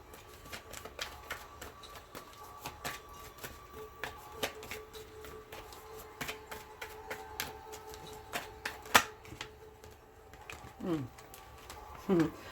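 Tarot cards are shuffled in quick repeated riffles and taps, close and crisp, with soft handling noises between bursts.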